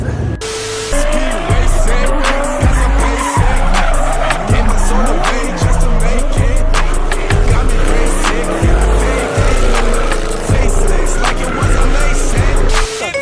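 A widebody BMW drifts with loud squealing, skidding tires and a revving engine, close and continuous, with repeated surges of throttle as the car slides.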